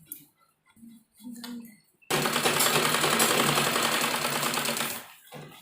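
A sewing machine stitches an elastic casing on a child's dress made from a dupatta, a loud, close, rapid whirring run of about three seconds that stops abruptly, with brief fabric handling sounds before it.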